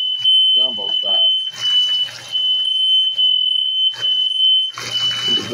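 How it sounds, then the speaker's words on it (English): A sensitive home alarm in a house holds one steady high electronic tone through the whole stretch, with people talking and moving around it. "My aunt got some sensitive alarm in this house"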